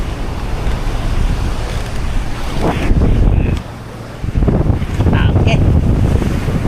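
Ocean waves splash against a boat out on the Pacific on the way to a buoy-placing spot, with steady wind buffeting the microphone, a sharper surge of spray midway and a brief spoken word.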